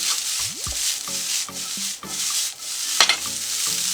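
Egg noodles with chicken and vegetables being stirred in a pan, a steady scraping, rubbing texture with soft sizzling and a few light clanks of the utensil.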